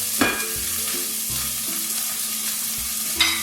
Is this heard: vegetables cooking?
yes